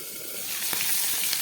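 Fish heads frying in oil in a covered pan give off a steady close sizzle and hiss, with a few brief sharper pops and crackles rising above the continuous frying noise.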